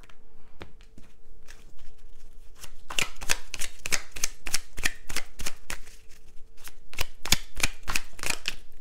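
A deck of cards being cut on a table: close, crisp clicks and flicks, sparse at first and then quickening into a rapid, irregular run of snaps, with no talking.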